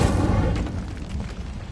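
An Incendio fire spell blasting in Hogwarts Legacy, one close, heavy whooshing burst that slowly fades away.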